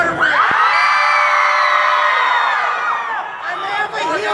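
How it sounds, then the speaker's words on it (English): Crowd of children at a storytime event screaming and cheering together in a loud, sustained burst that trails off into scattered shouts. "Let me hear you scream for the princess."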